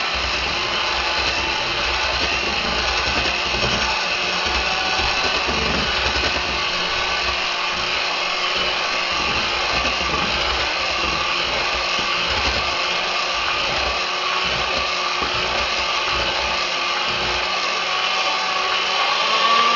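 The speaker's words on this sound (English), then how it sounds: "we're going to mix it up just for a little bit longer" An electric mixer whirs steadily through cheesecake batter, a constant loud motor drone with a slightly scraping, grinding texture that runs unbroken from start to finish.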